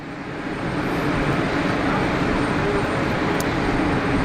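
EasyJet airliner emerging from murky weather at Geneva Airport, a steady broad engine roar that swells slightly and holds loud and constant throughout, with no voices.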